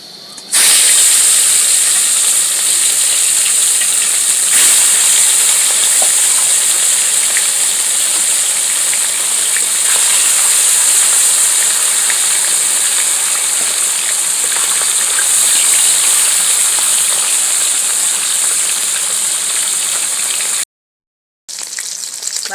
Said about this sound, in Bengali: এইবারে একটা একটা করে আমি মাছ ছেড়ে দেবো